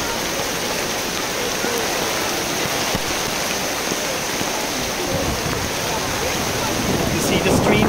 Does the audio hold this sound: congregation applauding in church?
no